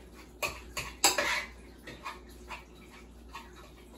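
A spoon mashes baked potatoes in a dish, giving irregular scraping clinks and knocks of metal on crockery. A few sharper hits stand out, and no one speaks.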